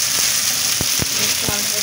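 Bay leaf fries in hot oil for polao, a loud continuous sizzle broken by a few soft spoon strokes as it is stirred.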